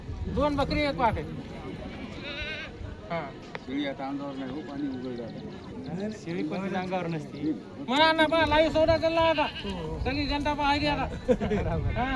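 Goats bleat repeatedly amid busy crowd chatter at a goat market in Kalamnuri, Hingoli, with several people talking and haggling close by throughout.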